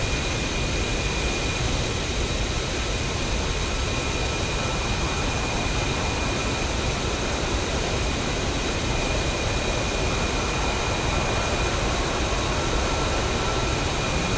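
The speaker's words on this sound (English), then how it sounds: "Make sure the throttle is at idle and then press right shift home to start both engines." F-15C jet engines starting up in the DCS flight simulator, a loud, constant roar with a broad whoosh and a thin steady whine running throughout, no voices.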